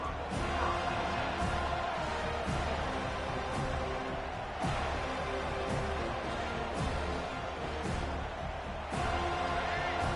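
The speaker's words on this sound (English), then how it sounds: "This crowd, full throat, spreading the eardrums and letting them know it's going to be a long day." A football stadium crowd roars in a continuous broad wash of massed voices, with a few sharp bangs or claps recurring through it, steady and loud with no distinct commentary.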